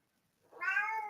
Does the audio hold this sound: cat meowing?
yes